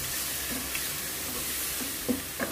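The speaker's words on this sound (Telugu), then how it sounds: "ఇప్పుడు మనం పేస్ట్ చేసి పెట్టుకున్నాం కదా కరివేపాకు, అది ఇందులో వేసేసి చక్కగా వేయించుకోవాలండి." Curry leaf paste fries in hot oil in a pan with a steady low sizzle, a few soft scrapes of a spoon stirring through it near the end.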